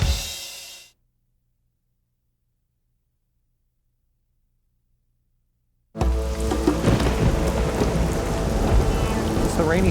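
Pacific Northwest rainstorm with thunder: loud dense rain pours in at the start, cuts to silence, then returns as a heavy, steady downpour with rumbling through the final seconds.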